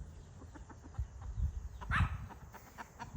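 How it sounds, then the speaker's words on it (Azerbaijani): A rooster in a farmyard gives a few faint, short clucking calls, with one louder call near the middle, amid low background rumble and no talking. "Bunda bu qəşəng xoruzdur"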